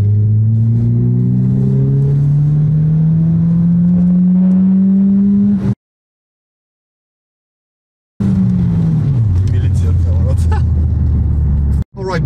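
An Italian sports car engine revs hard at full throttle to 7,000 rpm in second gear, its pitch climbing steadily, then cuts to silence before revving again and dropping back to a lower drone.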